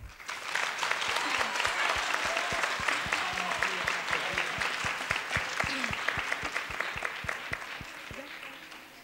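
Applause from an audience at a school poetry festival, with many clear individual claps standing out in a quick, lively rhythm, swelling early then slowly easing, with voices faintly mixed in.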